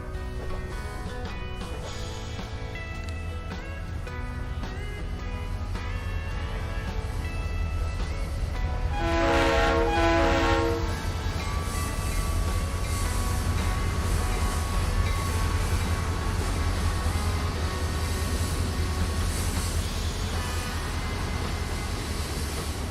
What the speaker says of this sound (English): I like to keep my train on the tracks.